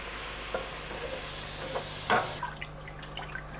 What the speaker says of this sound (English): I'm just going to pour the first bit in slowly